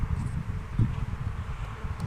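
Honey bees buzz steadily around an opened hive, a dense low continuous hum close by with no talking.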